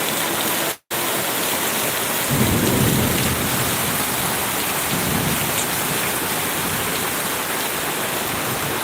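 A loud, steady downpour of heavy rain over a flooded house yard, with low rumbling swells partway through and a brief dropout near the start.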